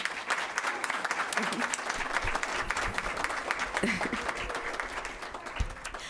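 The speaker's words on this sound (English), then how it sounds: "Can we please give them a round of applause?" Steady applause from an audience for chamber orchestra students after a school performance, dense clapping throughout with some crowd noise and a few voices mixed in.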